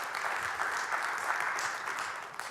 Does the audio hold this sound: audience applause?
yes